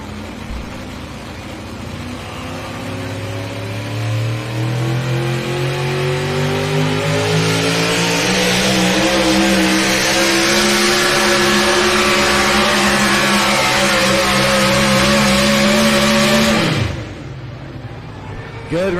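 Four-wheel drive class truck at a truck and tractor pull in Bowling Green, Ohio, its engine roaring loud and close, climbing in pitch as it revs hard under load, then dropping off abruptly near the end.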